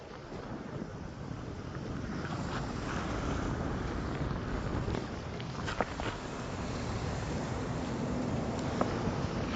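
Strong wind buffets the microphone at a riverside carp fishing spot, a steady loud roar throughout with a couple of faint clicks and knocks from the fishing rig beneath it.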